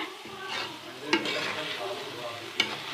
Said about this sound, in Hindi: फिर हल्के हाथों से इस तरह मिक्स करेंगे